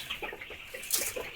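Chickens on a poultry farm cluck in short, scattered bursts, fairly close, with a few sharper calls over a faint background.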